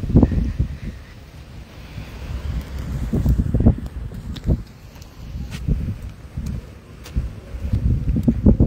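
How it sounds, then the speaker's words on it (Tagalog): Strong wind buffets the microphone in repeated loud gusts, rumbling and roaring with brief lulls between blasts. "Lakas po ang hangin eh."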